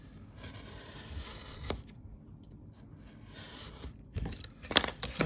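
A knife trims the edges of thick paper booklet covers, giving quiet scraping strokes with several brief sharp cuts, the last ones bunched and a little louder.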